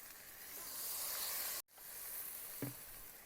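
Water poured onto frying masala in a pan for a cauliflower and meat curry sets off a loud, steady hiss and sizzle at close range. The sound breaks off sharply, then the sizzling resumes with a small clatter.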